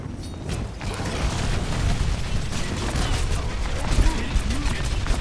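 Rapid, continuous game gunfire from D.Va's twin fusion cannons in the Overwatch video game, a dense mechanical clatter that keeps up steadily with louder bursts near the end, mixed with other battle noise.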